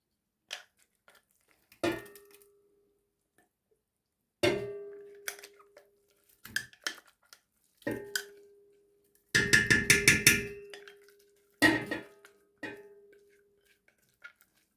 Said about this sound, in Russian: Теперь это перекладываю в кастрюлю,